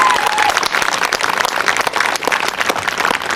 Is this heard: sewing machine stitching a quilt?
no